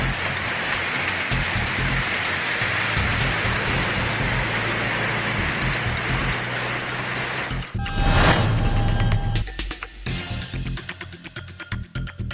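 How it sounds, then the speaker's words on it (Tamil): Heavy rain with strong gusty wind during a storm in Tamil Nadu, a loud roaring downpour for most of the stretch, then an abrupt shift to choppier, rougher bursts near the end. "பலத்த சூறை காற்றுடன் கூடிய கனமழை"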